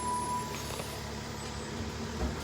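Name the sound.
trash truck passing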